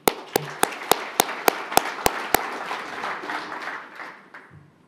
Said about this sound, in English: A round of applause, please, for the Honourable Michael Wood.